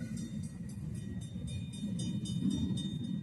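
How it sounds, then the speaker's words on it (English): Two freight trains, one a Burlington Northern hopper consist, rolling past steadily with a continuous low rumble and faint rail squeal, loud and close with no voices. "There's two trains."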